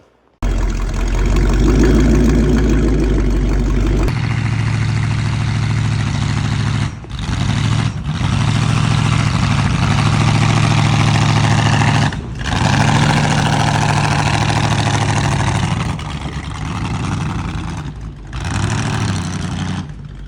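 A homemade Batmobile Tumbler's engine labours loudly and steadily while pulling a heavy trailer, its drone briefly dipping a few times before carrying on.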